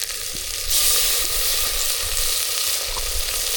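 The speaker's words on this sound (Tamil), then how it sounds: "தேங்காய் பால் சேர்த்து கலந்து விட்டுக்கலாம்" Coconut milk stirred into a cooking rosy milkweed flower mixture in a hot pan, a loud sudden surge of sizzling that settles into steady bubbling hiss, close up with no talking.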